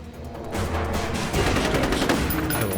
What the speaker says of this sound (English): they all have those stupid fucking nail guns